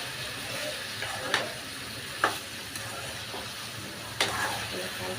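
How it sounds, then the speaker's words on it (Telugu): Ridge gourd and tomato stirred in a frying pan, soft scraping strokes with a few sharp spatula clinks over a low, steady sizzle. "దీన్ని కిందకి ఇలాగే ఒక 2 సార్లు ఇలా కలుపుకోండి"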